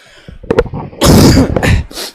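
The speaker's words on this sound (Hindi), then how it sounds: "खांसी आने लगी भाई" A burst of loud, harsh coughing right up close, a few short hacks followed by a longer rough fit, then a final quieter cough.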